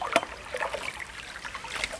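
A hand stirs the water of a natural swimming pond to drift floating leaves toward the deep zone, making soft close trickling sloshes with one brief splash near the start.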